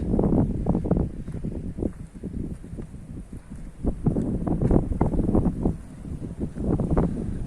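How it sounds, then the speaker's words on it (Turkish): Gusty wind at Yolçatı, Silivri, buffets the microphone in uneven rumbling bursts, loud and close, with no voices. "rüzgarın sesi falan muhteşem geliyor"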